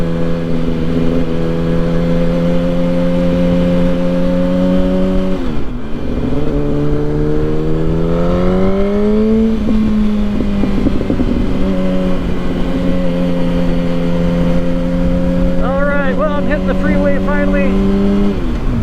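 A Yamaha R1 sport bike accelerates onto a freeway in Boise, Idaho, its engine loud and close with a strong steady whine that climbs through the gears, dips at a quick shift and pulls on again under wind noise.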